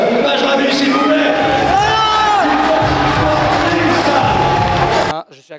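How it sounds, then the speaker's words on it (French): Crowd at an MMA event in Nikaia cheering and whooping after a fight, loud dense roar with shouts rising in the middle, cutting off abruptly near the end. "On va applaudir quand même."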